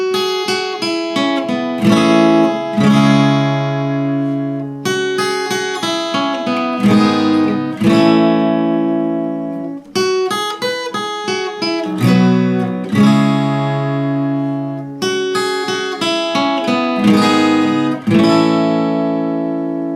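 Acoustic guitar picks the melody of the piano outro from a song on the higher strings over chords, in repeating four-bar phrases of plucked, ringing notes, close and clear with no voice.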